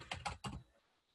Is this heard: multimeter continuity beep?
no